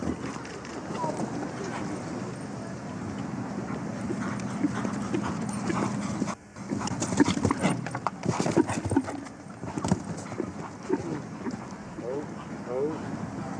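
A show jumping horse's hooves gallop across an arena at Chantilly in a rapid, rhythmic drumming that is moderately close, with a commentator talking over the hoofbeats and wind buffeting the microphone.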